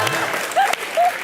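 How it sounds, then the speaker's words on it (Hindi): A studio audience on a comedy show breaks into a short burst of applause, mixed with brief tonal cues and a voice over the clapping. "ठोको ताली।"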